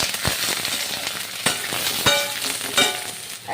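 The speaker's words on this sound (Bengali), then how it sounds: "কড়াইতে সর্ষের তেল দিয়ে দিয়েছি সর্ষের তেলে আমি ভাজাটা করব আর এবার আমি দিয়ে দেবো বেগুন" Aubergine fries in hot mustard oil in a wok, giving a close, continuous sizzle with several sharp spattering pops and the occasional stirring knock.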